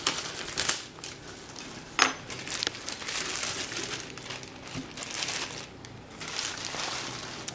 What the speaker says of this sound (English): First I'm just going to cut this bag off.